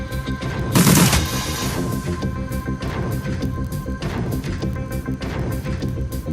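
Enemy gunfire in the Shadowrun: Dragonfall video game, a heavy crashing burst of shots near the start, then repeated rattling gunfire over a steady, dense game soundtrack.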